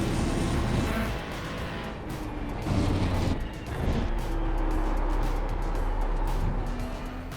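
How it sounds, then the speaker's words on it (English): Race car engine on a track under aggressive downshifting, a loud, continuous roar with rising and falling revs and brief throttle blips, close and unbroken throughout. "Aggressive downshifting."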